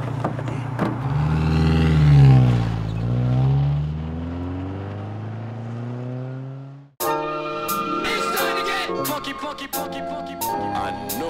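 A car pulls away and accelerates, its engine rising in a long, loud sweep for several seconds before cutting abruptly into music.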